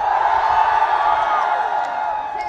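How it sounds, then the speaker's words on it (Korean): A large crowd at an outdoor guerrilla concert with a K-pop group shouts and cheers for an encore, a dense, loud, sustained roar of many voices with no break. "정말 앵콜을 원하면 다시 한번 소리 질러."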